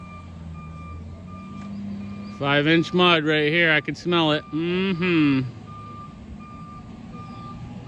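A conveyor truck's reversing alarm sounds a loud run of repeated electronic beeps for about three seconds, over a low idling engine on a long driveway, as someone talks.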